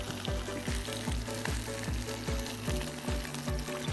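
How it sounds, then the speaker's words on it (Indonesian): A spice paste with coconut milk and a little water simmers and sizzles in a pan, with a steady bubbling crackle and repeated soft rhythmic stirring scrapes, close and moderately quiet, with no talking. "Lalu kita tunggu sampai mendidih."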